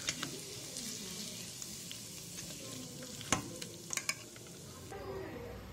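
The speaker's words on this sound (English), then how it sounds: "Now we will add this oil into our pickle. We will now stir this well." Hot oil goes into mango pickle and gets stirred, a soft sizzle with spoon scrapes and a few sharp clinks against the container, fairly quiet and close.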